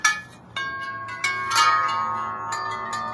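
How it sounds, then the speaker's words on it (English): Wind chimes jingle outside in gusty wind, several bright metallic strikes ringing out at irregular moments and each tone lingering and fading, close and clear with no one speaking. "When the wind chimes are going nuts."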